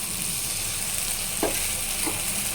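Spices sauté in hot oil in a pan for a soybean and potato curry, making a continuous close sizzle with a couple of brief stirring scrapes and no voices.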